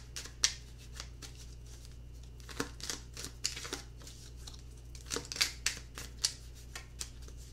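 A deck of tarot cards is shuffled by hand, with quiet, close riffling bursts and soft card snaps at irregular moments.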